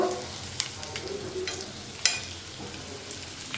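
Eggs for an egg masala fry sizzle steadily in a pan over a low flame, close and fairly quiet, with a few sharp clicks from spoons turning them and no talk.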